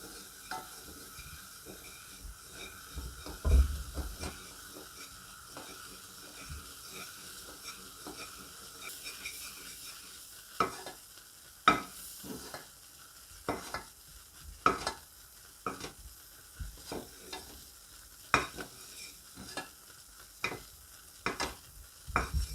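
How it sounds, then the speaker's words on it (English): A spoon stirs a condensed milk and oil toffee mixture in a pan with soft, repeated scraping strokes over a faint sizzle, quiet at first, then settling into a regular rhythm of distinct scrapes in the second half. "now we need to stir it"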